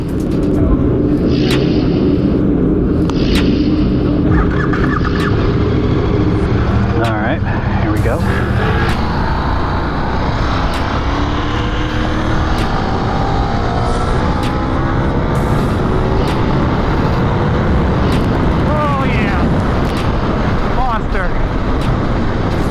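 A KTM 1390 Super Duke R motorcycle roars loudly and continuously around a track, engine revving up and down through gear changes, with a rider speaking briefly over the noise.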